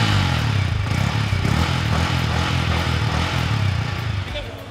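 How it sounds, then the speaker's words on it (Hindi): A Yamaha MT-15 Version 2.0 motorcycle idles after starting, its exhaust giving a steady, loud, close low rumble that holds evenly before easing slightly at the end. "बाइक को जब हम स्टार्ट कर रहे हैं तो इसका एग्जॉस्ट साउंड कैसा है।"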